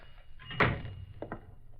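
A door opens into a clock shop as a radio drama effect, a short creak and thud standing alone and fairly close, followed by a couple of faint knocks.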